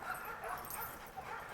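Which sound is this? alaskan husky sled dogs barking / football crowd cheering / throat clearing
alaskan husky sled dogs barking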